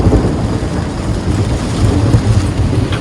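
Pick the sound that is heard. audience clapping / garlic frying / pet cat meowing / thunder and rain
thunder and rain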